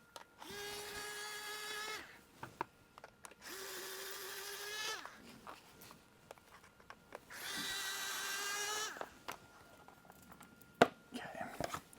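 A power tool whirs in three separate bursts, each lasting one to two seconds, as it loosens 4mm Allen bolts on a Talaria Sting MX5 electric bike fender, close and clear, with light clicks and handling noises between bursts.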